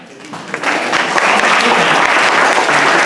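A party crowd breaks into applause for a third-place prize winner. Clapping swells quickly from quiet to a loud, dense, sustained burst that fills the room.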